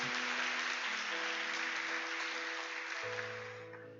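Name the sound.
congregation applause in church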